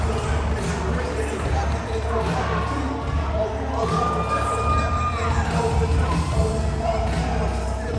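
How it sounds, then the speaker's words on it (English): A wrestling crowd at Homewood cheers loudly through a title match, a steady wall of shouts and yells with a commentator talking over the noise. "And the crowd here at Homewood loves it."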